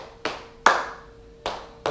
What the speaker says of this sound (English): You should always clap it out.